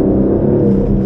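Aston Martin Vantage accelerating on the Silverstone race track, a loud, steady engine rumble and whir sustained close up for about a second with no voices over it.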